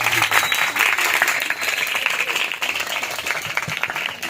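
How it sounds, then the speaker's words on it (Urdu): A church congregation gives loud, sustained applause, a dense steady wash of many hands clapping at once throughout. "ہم زوردار تالیاں بجا کر خدا کے نام کو"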